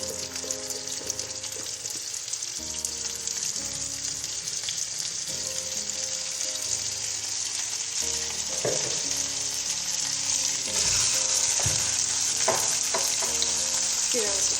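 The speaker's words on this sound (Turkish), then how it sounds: "4-5 yemek kaşığı sıvı yağda kavrulana kadar yağda çevireceğim arkadaşlar" Washed rice toasts in four to five tablespoons of vegetable oil for golden chicken pilaf, giving a steady close frying sizzle with scraping spoon strokes as it is stirred, no voices.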